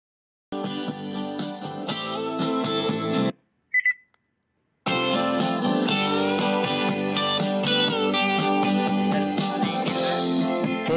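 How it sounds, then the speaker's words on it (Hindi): Music pours loudly from a full-bass Bluetooth speaker with colourful lights, playing from a connected mobile phone, broken by a brief gap with a couple of short beeps before the song resumes at full volume. "तो अब इसमें एक म्यूजिक बजाते हैं।"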